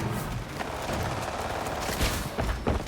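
Gunfire in the shooter video game Highguard, a dense steady wash of shots and booms with a few sharper bursts near the end, loud and continuous throughout.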